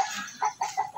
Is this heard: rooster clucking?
yes